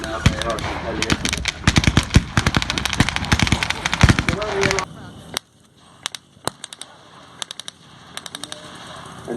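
Gunfire from a desert battle re-enactment skirmish, with a rapid run of sharp bursts like machine-gun fire over the first half, then scattered single shots against a quieter background. Crowd noise sits underneath the loud opening stretch.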